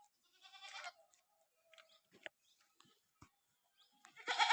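Beetal and Osmanabadi goats bleat several times at a livestock market, loud harmonic calls near the start and end with quieter animal sounds and thumps between, no talk.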